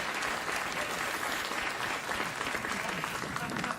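Studio audience applause on a late-night talk show, an even, continuous burst of clapping at moderate level with no gaps for nearly four seconds.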